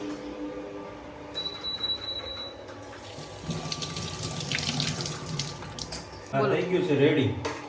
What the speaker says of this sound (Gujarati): હવે એને આપણે સારા પાણીથી પેલા ધોઈ નાખીએ